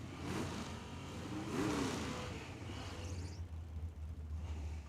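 A muffled Chevy II drag car at Tucson Dragway accelerating down the track, a distant rumbling engine rising and falling in pitch through gear changes, heard from trackside under low background noise.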